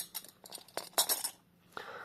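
Light metallic clinks and taps of cupronickel spoons knocking together, irregular and fairly close, with a brief pause before a final clink.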